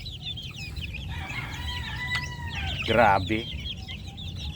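Young chicks from different batches squabbling in a pen, giving quick high peeping chirps and soft clucks that swell into a brief louder flurry, with a person talking over them.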